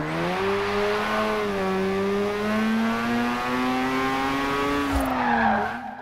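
A 2002 Mazda RX7 Spirit R Type A drifts in the Forza Horizon 4 video game, its rotary engine holding a steady high rev tone while the tyres squeal continuously, loud and close, before a brief drop.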